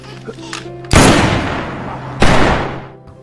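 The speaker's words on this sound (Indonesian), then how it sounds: "suara tembakan menarik lebih banyak zombie memasuki apartemen" Two loud, sharp gunshots in a zombie film, each a sudden blast followed by a decaying echo, about a second and a half apart, with faint background sound before them.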